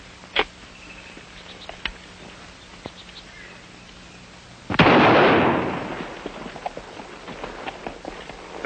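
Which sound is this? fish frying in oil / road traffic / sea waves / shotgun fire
shotgun fire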